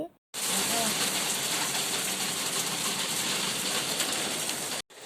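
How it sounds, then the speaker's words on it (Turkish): Loud, dense rain mixed with small hail pours steadily as a continuous broadband roar, starting abruptly after a brief silence and cutting off near the end. "sonra çok gürültülü bir yağmur yağdı"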